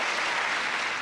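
A large audience at the Miss USA 1983 pageant in Tennessee bursts into loud, dense cheering and applause, a brief continuous roar with no gaps.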